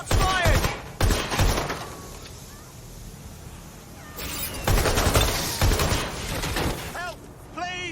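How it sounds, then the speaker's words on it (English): Gunfire in Watch Dogs: Legion: sharp bursts of shots cluster near the start and again in the second half, loud and close, with shouting voices between volleys and a quieter lull mid-clip. "Shots fired!"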